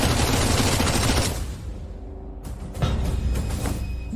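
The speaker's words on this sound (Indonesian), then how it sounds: "Tembak. Jadikan dia saringan." Bursts of rapid machine gun fire ring out in an action film shootout, a dense loud volley that pauses briefly before more crackling shots and mechanical clatter resume.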